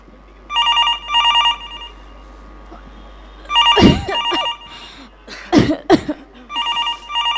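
A telephone rings in two clear double bursts, close and loud, then rings on faintly under sharp thumps and handling noises in a student stage skit.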